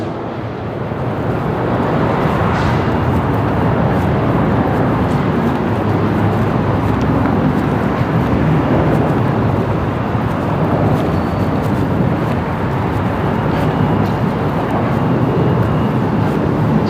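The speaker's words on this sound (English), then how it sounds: "the strip traffic noise is kind of," Street traffic on the Las Vegas Strip heard from a garden, a continuous broad rumble and wash of passing vehicles, steady and moderately loud without talk.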